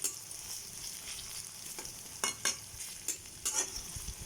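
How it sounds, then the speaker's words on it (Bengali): Onions browning in hot oil while stirred in a pan for papaya and moong dal, a steady soft sizzle with a few sharper scraping clatters of the spoon, near and alone. "পেঁয়াজটা বাদামি করে ভেজে নিতে হবে।"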